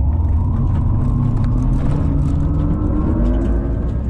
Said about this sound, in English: I'm gonna do a little bit of a launch here